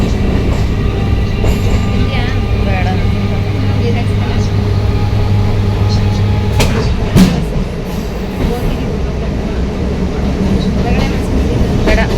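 A train rumbles along steadily with a low hum and occasional rattling clacks, while people talk nearby over the noise.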